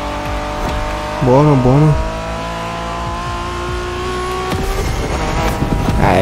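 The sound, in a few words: car handbrake drift in video game The Crew Motorfest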